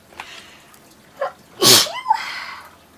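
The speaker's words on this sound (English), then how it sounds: "I'm going to sneeze." A single sharp, loud sneeze bursts out close by after a couple of quick inhaling gasps, in an otherwise quiet room.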